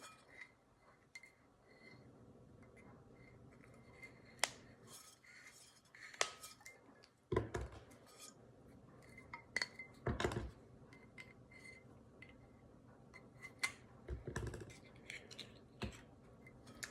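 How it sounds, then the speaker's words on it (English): Foil capsule being cut off a bottle of Malbec wine from Mendoza, heard as soft, quiet scraping and a handful of sharp clicks and snips spread unevenly over a low, hushed background. "So we will cut off the foil."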